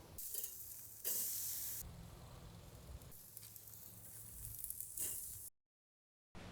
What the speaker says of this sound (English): we're just gonna do this for about 30 seconds per side until we get to the sear marks that we're looking for